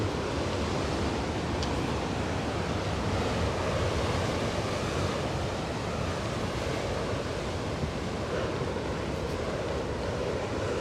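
Ocean waves roll in along the coast at Baiona, Galicia, as a steady, dense roar of surf mixed with gusty wind buffeting the microphone, loud and continuous.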